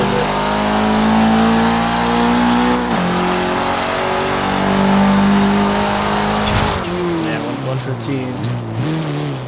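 A 300-horsepower 2013 Dodge Dart sleeper build in Forza Horizon 3 revs hard in first gear, then power-shifts into second with a sharp break before the engine climbs again, loud and steady throughout.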